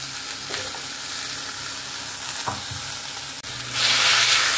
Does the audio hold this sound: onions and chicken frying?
yes